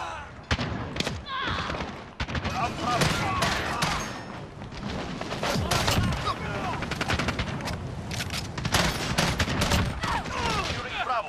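Gunfire in Call of Duty Modern Warfare, with dense automatic bursts and sharp single shots crackling loud and near, plus occasional thumps and distant booms, continuing in clustered volleys across the whole stretch.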